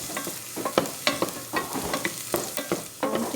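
Garlic sautés in a pan as the base for Filipino-style chicken sotanghon noodle soup. A soft, close sizzle is broken by repeated scraping stir strokes, with no talking.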